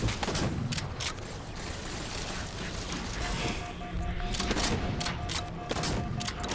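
Halo 4 shotgun blasts ring out amid a dense, continuous din of video game combat, with booming shots and crashing impacts layered throughout.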